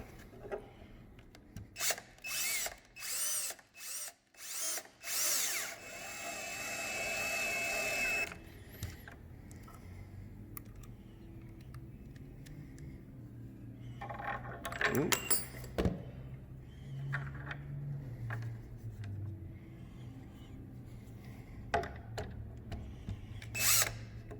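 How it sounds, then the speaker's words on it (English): A power drill driving screws to mount the socket of a gate latch on a mini gate: several loud short bursts, then a longer whine, followed by quieter rubbing and handling noises with talking in the background. "put our socket up here. And screw it down."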